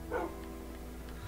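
A dog in the Minecraft video game gives one short bark near the start, then only a faint, steady background hum follows.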